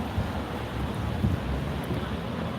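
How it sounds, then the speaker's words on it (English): Strong wind buffets an outdoor microphone on a city street near a bike shop, a steady low-frequency rumble of gusts with no talking. "It is a bit windy."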